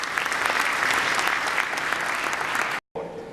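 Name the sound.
audience applause for Rex Tillerson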